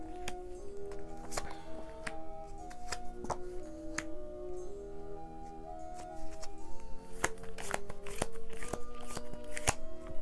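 Tarot cards laid face down on a table during a reading, producing a series of sharp, brief card slaps and snaps at irregular intervals over soft background music, growing busier toward the end.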